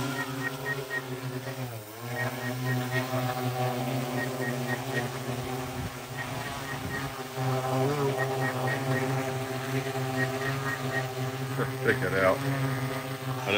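A drone with a thermal camera flies close by, its steady, loud buzzing hum with layered harmonic tones shifting slightly in pitch as it moves, while a person talks over it.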